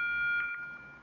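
A loud electronic beep sounds in the video game 7 Days to Die, a steady high tone that holds for about a second and then fades.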